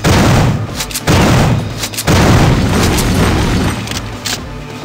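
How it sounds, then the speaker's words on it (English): A shuttle blows up in the video game System Shock 2, setting off loud, deep booming explosions that roll on continuously, with several heavy blasts overlapping in a dense rumbling wash. "Let's destroy the shuttle."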